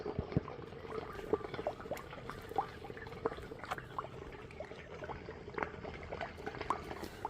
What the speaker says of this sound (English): But water is trickling in the well.